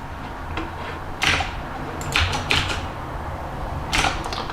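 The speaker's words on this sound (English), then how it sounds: "I'm glad you like the keyboard sound." A few separate bursts of clicky key presses on a keyboard, short clusters with pauses between them over a steady background hiss.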